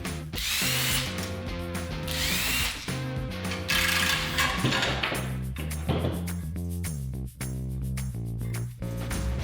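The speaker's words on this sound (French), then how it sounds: "Maintenant, on va percer un trou au bon niveau," A power drill bores a hole in the lower oil pan of a turbocharged Kawasaki H2R drag motorcycle, whining loud and close in steady bursts with brief pauses and speed changes.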